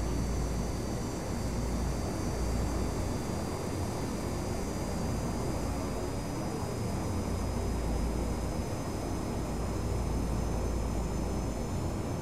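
Airliner taking off in the P3Dv4 flight simulator, a steady broad engine roar with a high whine running unbroken and even in level throughout, no talk.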